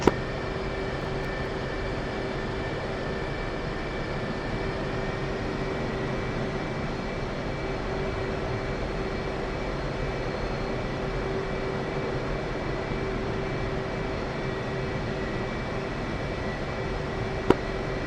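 A fixed-wing aircraft taxis in the Arma Reforger video game, a steady droning engine hum with a constant whine, even and unchanging for the whole stretch, with no talk over it.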